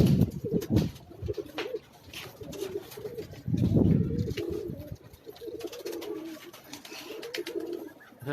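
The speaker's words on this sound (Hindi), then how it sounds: "कबूतर सारे ऊपर भाग जाते हैं।" Pigeons on a rooftop in New Rizvia Society near Safoora Chowrangi, Karachi, coo in repeated low, throaty phrases close by, with a burst of louder cooing midway and faint clicks and rustles between.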